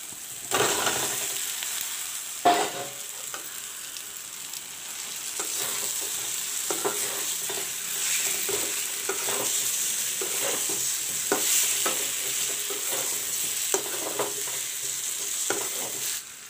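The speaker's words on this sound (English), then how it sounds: "Now I will put in the baby potatoes which I have boiled and kept." Boiled baby potatoes tossed into browned masala for Bengali-style aloo dum, giving a sharp initial clatter followed by a steady close sizzle and repeated stirring scrapes in the pan, with no talk.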